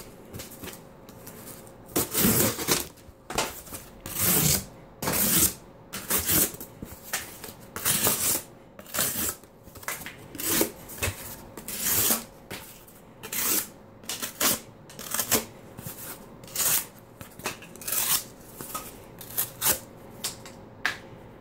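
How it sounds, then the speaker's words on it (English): A Swiza pocket knife slices through cardboard in repeated rasping strokes, each cut a short scraping burst in a steady rhythm, close and fairly loud, with no talk. "letting you actually cut through the cardboard without it slipping off"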